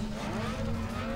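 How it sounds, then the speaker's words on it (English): A Nissan Skyline R34 drifting in Need for Speed Underground 2: a steady, loud engine drone held at high revs with a sustained tire-squeal tone, continuous with no pauses. "Alright, first Drift event. In the R34."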